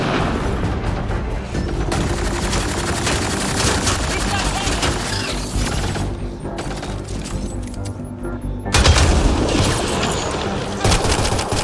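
Rapid pistol gunfire in a sci-fi shooter game rattles out in dense bursts of sharp cracks, close and loud, with heavier booms near the end, over continuous game noise and occasional speech.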